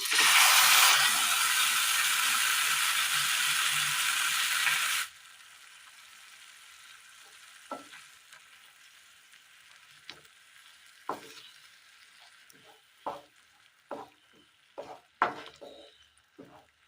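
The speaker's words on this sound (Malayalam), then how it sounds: "ഇനി ഇതിലേക്ക് അരച്ച് വെച്ചിരിക്കുന്ന മസാല ചേർത്ത് കൊടുക്കാം." Ground masala paste for a Kerala curry hits a hot pan with a loud, dense sizzle that cuts off abruptly after about five seconds, leaving a quiet room with scattered faint clicks and scrapes.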